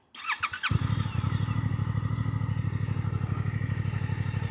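A 2026 Suzuki GSX-8TT motorcycle starts with a short starter whir, then settles into a steady, fairly subdued low burble at idle, its even pulses heard close up.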